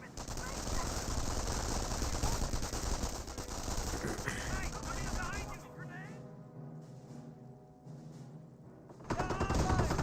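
Sustained bursts of machine-gun and rifle fire crackle through a Company of Heroes battle, dense and loud for several seconds before thinning out, then surging back at the end; a voice talks over parts of it.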